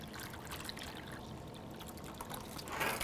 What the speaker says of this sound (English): We're going to pour the rest of the water in.